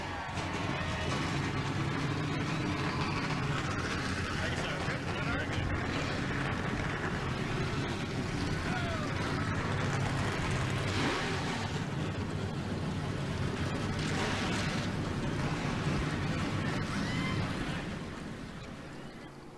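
A steady, loud roar of many race car engines fills the start of a NASCAR Cup Series race in a video game, a dense continuous wash with rattling bursts that suggest impact wrenches mixed in, and no talk.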